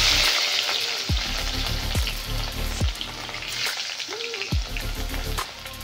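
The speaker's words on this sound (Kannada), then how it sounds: "ಇದು ಚೆನ್ನಾಗಿ ಫ್ರೈ ಆಗಬೇಕು ಬೆಳ್ಳುಳ್ಳಿ." Crushed garlic and a chilli frying in oil for hotel-style bele rasam, giving a loud, continuous close sizzle with a few spoon stirs and scrapes.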